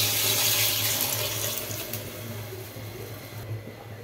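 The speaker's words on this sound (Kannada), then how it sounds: "ಈಗ ಸ್ವಲ್ಪ ಇದಕ್ಕೆ ನೀರು ಸೇರಿಸ್ಬಿಟ್ಟು 1 ವಿಸಿಲ್ ಕೂಗಿಸ್ಬೇಕು." Water pours steadily into a pressure cooker of chicken biryani, a close, continuous gushing splash that thins out and goes quieter toward the end.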